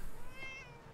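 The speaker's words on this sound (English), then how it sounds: "Hey, kitty cat." A cat in the Fallout 4 Far Harbor video game lets out a single short, clear meow with a rising-then-falling pitch, close and alone.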